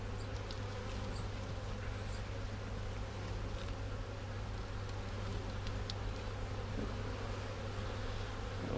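Honey bees buzzing around an open hive in an apiary being readied for winter, a dense continuous drone close by, with a few individual bees whining past now and then.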